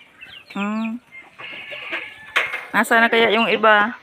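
Chickens and ducks at feeding time on a backyard farm, with harmonic clucking calls bursting out close by and repeatedly, mixed with faint clinking, while a person talks over them.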